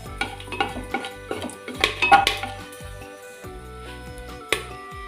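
Whole cinnamon pieces, cardamom pods and cloves being stirred in a pan for beef roast, with a spoon scraping and clinking against the metal in irregular bursts, alongside faint ringing tones.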